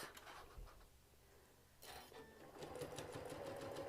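A sewing machine stitches a fabric tray with firm stiffened support, a steady mechanical whir running through nearly the whole stretch with a brief pause early on, close and fairly quiet.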